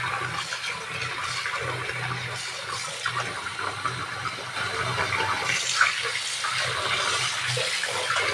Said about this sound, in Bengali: গোটা মাছ নিয়ে চলো মাছটাকে ভালো করে ধুয়ে নিই